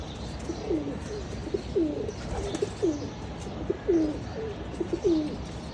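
Pigeons cooing repeatedly in soft, rhythmic phrases, close by, over a faint steady background hum.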